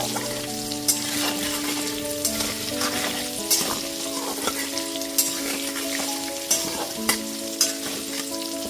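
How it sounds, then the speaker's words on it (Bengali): Potatoes fry in oil with salt and turmeric over a medium gas flame, a steady close sizzle punctuated by regular clacks of stirring, with a faint sustained tonal hum beneath. "এইবার লবণ আর হলুদ গুঁড়োটা খুব ভালো মতো মিশিয়ে গ্যাসের ফ্লেমটা মিডিয়ামে করে আলুগুলোকে লাল করে ভেজে নিচ্ছি।"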